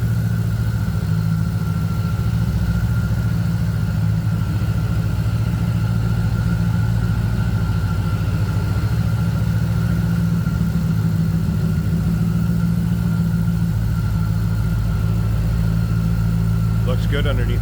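A 2012 Dodge Challenger SRT8 Yellow Jacket Performance Twin Turbo Edition, rated around 1000 hp, idles steadily with a deep, even rumble that holds close and loud from start to finish.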